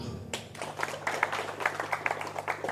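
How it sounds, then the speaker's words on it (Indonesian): An audience at an Islamic religious talk claps hands. The claps are quiet and scattered and begin after a brief silent pause. "Tepuk tangan dulu."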